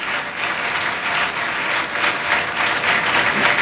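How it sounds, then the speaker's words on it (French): Congregation at a church service clapping loudly and steadily together, a dense, sustained wash of applause that holds at full strength from start to end. "Acclamons fortement pour nos frères et sœurs."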